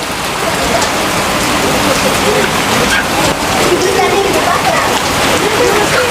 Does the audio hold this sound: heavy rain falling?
yes